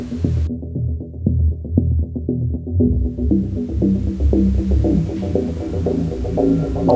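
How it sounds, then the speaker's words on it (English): An unexplained low humming sound comes from the sky, a loud, continuous throbbing drone that pulses steadily throughout with no voices. "Now you are watching unknown phenomenon sounds at sky in Guayaquil in Ecuador."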